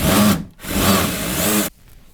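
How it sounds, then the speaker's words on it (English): A power drill bores a wide hole through an IKEA storage unit: two loud, close bursts of high-pitched whirring with a brief pause between them, then the motor cuts off abruptly near the end. "this was kind of the only drill bit I had that was wide enough to fit the connector of the cable through"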